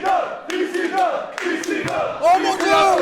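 A crowd at a hardcore wrestling match with barbed-wire tables and weapons roars and chants, close and loud, as a steady surge of shouting voices and whoops.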